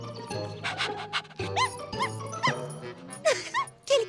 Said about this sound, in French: Quel cabot celui-là!